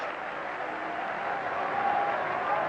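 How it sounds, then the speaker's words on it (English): A cricket crowd at an England versus India Test match in 1990 applauds a batsman's innings, with steady, dense clapping from a large stand that holds at a sustained level throughout. "everybody stood applauding a wonderful performance"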